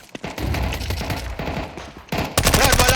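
Rapid automatic gunfire rattles in bursts during a video game match, close and loud, with a heavier volley toward the end.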